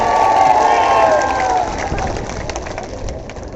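A rally crowd at a political speech in Balrampur claps and cheers loudly to welcome Dr. Mannan, a dense wash of applause with raised voices that peaks early and then eases slightly.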